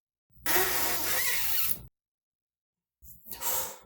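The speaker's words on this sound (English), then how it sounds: "squeeze our cheeks in, squirt that air out, and inhale in our nose" Circular breathing for saxophone: air is squeezed hard from the cheeks while a breath is drawn through the nose. Two loud hissing bursts of air are separated by a short silence.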